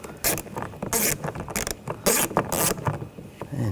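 Small screw being turned tight by hand on a rear window switch bezel inside a Nissan Rogue door, a close series of quick rhythmic ratcheting clicks in short repeated bursts.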